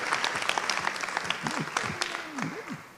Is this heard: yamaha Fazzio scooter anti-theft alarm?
no